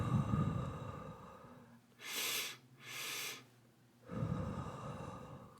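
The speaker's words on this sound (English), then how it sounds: "So it's just kind of 2 quick inhales through your nose and 1 out through your mouth." Two quick, sharp sniffing inhales through the nose are followed by a longer exhale through the mouth in a calming breathing exercise. The breaths are close and clear against a low background hum.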